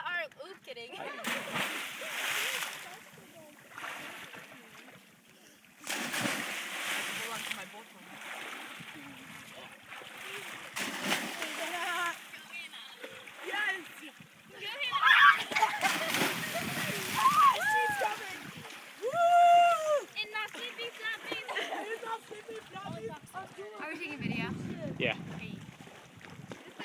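Water splashing and sloshing beside a drifting boat while people swim in calm, low-wind conditions, steady broadband wash with louder surges, with voices talking over it.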